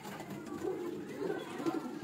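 Teddy pigeons coo softly on a rooftop loft in Mirpur, a low continuous murmur of overlapping coos with a few slightly louder swells, close by and steady.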